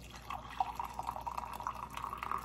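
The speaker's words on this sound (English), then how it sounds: "So I'm just gonna pour me some hot coffee." Hot coffee pours into a mug, a continuous trickling, dripping liquid stream that holds steady for a few seconds at close range, with no talking over it.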